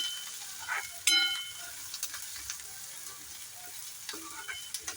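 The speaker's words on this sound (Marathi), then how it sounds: "आता हे तेलामध्ये व्यवस्थित परतून घेऊया" Quiet sizzle of vegetables sautéing in hot oil for a leafy amaranth dish, with a soft continuous hiss, a few light clinks and scrapes of stirring, and a brief metallic ring near the start.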